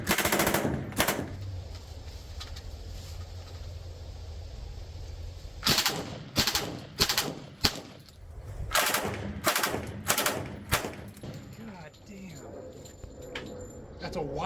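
A real WWII Thompson submachine gun fires on full auto outdoors: a few shots, then a pause, then a string of loud, rapid bursts with sharp echoes trailing off, with speech heard at times between them.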